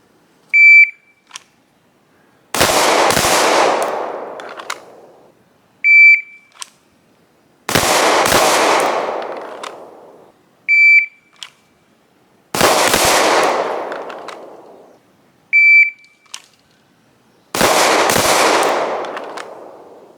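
Four times over, a shrill electronic shot timer beep is followed by a quick pair of loud, sharp shots from a Wilson Combat SFX9 pistol, each sequence separated by a few seconds of quiet.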